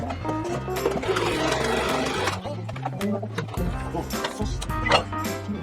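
A sewing machine stitches fabric for a bench cushion made from a TV stand, running in steady rhythmic bursts with brief pauses, close and clear, with no talking.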